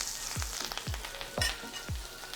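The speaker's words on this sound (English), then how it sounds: "you'll hear it starting to sizzle, sizzle, sizzle" Food sizzles steadily in a hot pan, with four rhythmic low thumps recurring about every half second, close and moderately loud.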